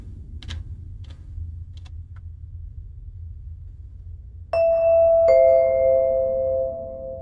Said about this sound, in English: That would annoy me, that ding dong all the time.